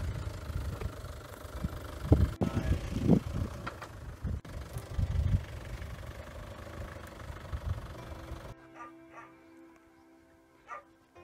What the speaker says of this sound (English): the van's got to do a little bit of a dodgy manoeuvre to get this trailer in the right place